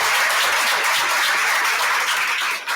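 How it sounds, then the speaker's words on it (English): Audience at an arts and activism event applauds, a dense, steady wash of many hands clapping for nearly three seconds, loud and close, with no talk. "Let's give her a round of applause."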